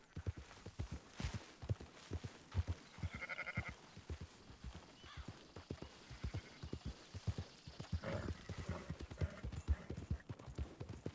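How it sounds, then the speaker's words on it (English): Sheep bleat here and there amid steady clip-clopping hooves in the video game Red Dead, a herd moving along with scattered calls over rhythmic hoofbeats. "Marston, why don't you leave the sheep to me?"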